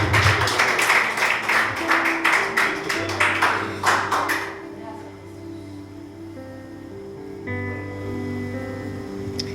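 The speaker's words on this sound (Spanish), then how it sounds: "Dele un aplauso a Dios ahí donde está" A church congregation claps in a quick, rhythmic burst for several seconds, loud and close, then stops abruptly, leaving a low hum and quiet room tone.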